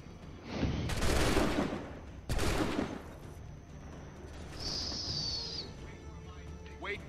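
Musket volleys crack out in an Assassin's Creed III battle, two loud massed bursts of gunfire with rumbling tails, followed by a quieter high whistling sound and some distant battlefield noise.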